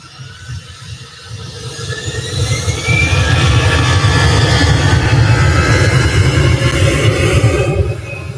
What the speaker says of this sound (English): Not another EasyJet plane.